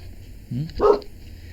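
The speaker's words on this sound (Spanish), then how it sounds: "hay un perro ladrando ahí" A dog barks once nearby, a single short bark with a faint whimpering lead-in, heard indoors during a lecture.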